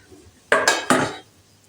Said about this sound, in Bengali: এই যে মিক্সি জার নিয়ে নিলাম